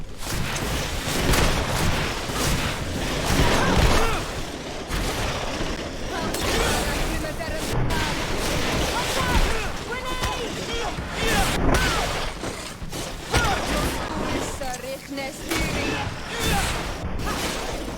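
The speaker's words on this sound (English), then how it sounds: "Watch out! Grenade!" Chaotic combat in a PC video game with bursts of gunfire and a grenade explosion among booms and crashes, loud and busy throughout, with voices talking over the action.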